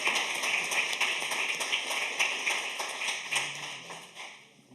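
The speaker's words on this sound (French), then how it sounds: "On peut l'applaudir." Audience applause for a speaker at a conference on technology in healthcare, a steady patter of many hands clapping at moderate volume that tapers off near the end.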